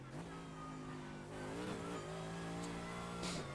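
Race car on the Nurburgring 24h circuit accelerating hard out of a corner, a steady close engine drone climbing in pitch through the gears, with a brief shift dip near the end.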